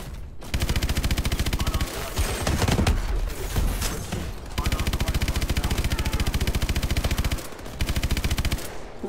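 Main gun in Call of Duty: Advanced Warfare firing long, rapid automatic bursts, loud and close, with brief pauses and another burst at the end; a voice speaks during the gaps.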